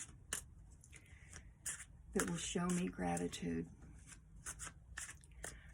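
A deck of tarot cards is shuffled in quick bursts of crisp riffling and soft slapping, close by and fairly quiet, with a person speaking briefly in the middle.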